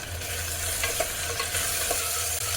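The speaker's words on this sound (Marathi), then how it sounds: "मग थोडंसं मीठ टाकून घ्यायचं आणि परतून घ्यायचं" Tomato and onion sautéing with salt in a pan for Puneri misal, a continuous close sizzle with a few light stirring scrapes and taps over a low steady hum, no talking.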